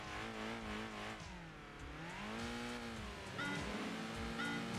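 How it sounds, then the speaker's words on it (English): A peppy inline four-cylinder turbocharged 200-horsepower lightweight front-engine rear-drive car in the Enthusia Professional Racing game, revving continuously with rising and falling engine pitch through gear changes, loud and close with no talk. "We got our little peppy inline 4-cylinder turbocharged 200 horsepower lightweight FR chassis."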